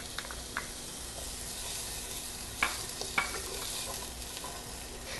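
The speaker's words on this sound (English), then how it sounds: "First thing we're going to do is add the onion." Onion frying in a hot pan for a broad bean dish, a soft, steady sizzle with a few sharp spatters and stirring scrapes, close but fairly quiet, with no talking.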